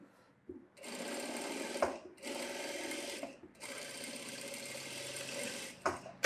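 A sewing machine stitches a blouse in three steady runs of rapid mechanical whirring, separated by brief pauses, with a short final burst near the end.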